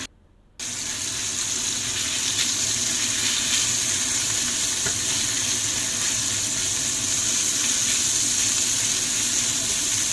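Loud, steady sizzling of marinated minced pork frying in a hot pan starts abruptly after a brief silence and keeps going without a pause.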